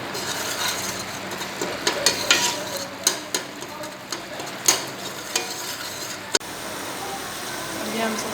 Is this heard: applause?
no